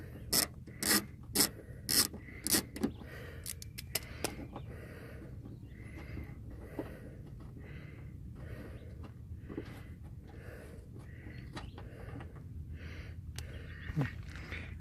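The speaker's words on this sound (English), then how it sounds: "you're going to take a socket, 9/32. And you're going to take this screw out right here." Close-up ratcheting clicks from a 9/32 socket removing a screw on a Chevrolet HHR, sharp bursts at first and then steady rubbing and turning, faint and under no talk.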